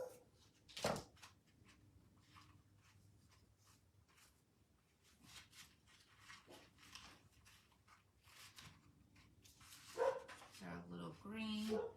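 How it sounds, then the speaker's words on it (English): A dog barks sharply once early on, then more barks and yips come later, mixed with speech and a distant background hum. "Somebody's here, my dogs are barking."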